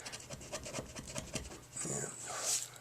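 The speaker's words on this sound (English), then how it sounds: "that's the reason I turn the chisel over, to get that curve." A chisel carves and shapes a wooden fan with quick, repeated scraping strokes, followed by a longer rasping pass toward the end, heard up close.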